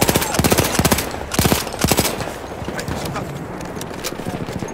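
Video game team deathmatch gunfire: rapid bursts of automatic shots in short clusters, loud and close, fading into a busy background of game noise and distant fire, with someone commentating over it.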